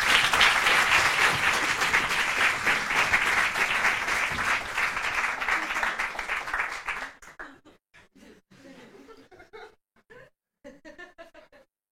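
Loud, dense audience applause greets a performer named Joey at a televised talent-show evening, sustained for about seven seconds before breaking off into a few scattered sounds.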